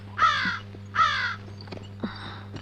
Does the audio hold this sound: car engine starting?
no